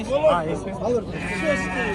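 Sheep and lambs bleat repeatedly nearby, wavering cries overlapping with people talking at a busy livestock market in Kara-Balta.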